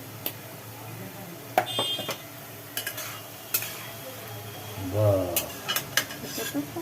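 Ash gourd cooked with coconut being stirred in a pan, a spatula scraping and clinking in irregular strokes over a soft sizzle, close by, with people talking in between.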